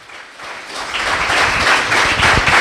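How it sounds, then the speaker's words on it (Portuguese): A church congregation breaks into applause that swells from a quiet start into a steady, dense wash of clapping, heard alone without speech. "Você pode aplaudir esse Deus?"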